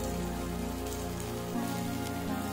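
Onion, tomato and spices with ginger-garlic paste sizzle steadily in a pan for raw jackfruit pulao, a dense continuous crackling hiss throughout, fairly loud and close, with no voices.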